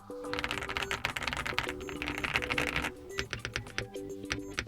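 Fast, muted clacking of a lubed MCHOSE MC K87 mechanical keyboard being typed on, close up, with dense bursts of keystrokes then a slower, sparser stretch.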